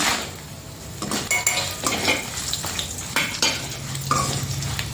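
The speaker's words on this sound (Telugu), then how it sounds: "మనం కారం తగినంత ఒట్టి మిరకాయలు వేసేసుకుంటున్నాను" Dried red chillies toast in a pan with coriander seeds for a gongura chutney; a steady close sizzle runs under repeated clinks and scrapes of a spoon stirring against the metal pan, with no talking.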